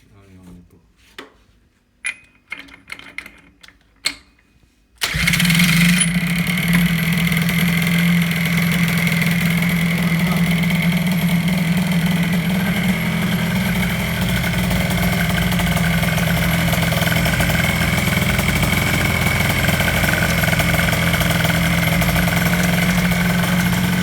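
An engine with an ignition problem starts without choke after a few clanks and clicks, then settles into a loud, steady, close idle that runs for about twenty seconds.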